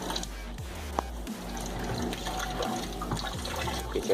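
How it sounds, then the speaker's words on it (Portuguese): Water gushing through the drain hose of a Brastemp 11 kg washing machine during the spin stage, a steady close rushing flow with faint drips, heard alone. "Água caindo aqui na mangueira"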